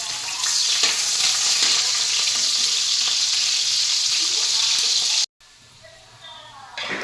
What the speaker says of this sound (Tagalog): Pag uminit na yung kawali, ilagay na natin yung mantika. Tsaka isunod yung sibuyas.